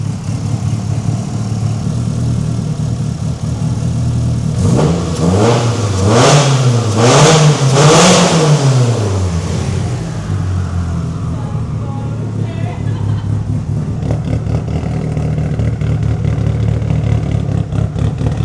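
A Mitsubishi Evo 8 with a stock engine and a big forward-facing turbo idles loudly up close, then gets several quick rising and falling throttle blips in a row before dropping back to a rough idle, with some talk in the background.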